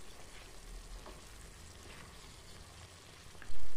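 Peas, olives and garlic sizzle in a frying pan while being stirred, a steady close frying hiss with soft scraping, ending in a brief louder knock near the end.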